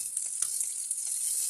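Tangra fish fry in hot oil in a pan, giving a soft, steady high sizzle with faint crackles and no talking.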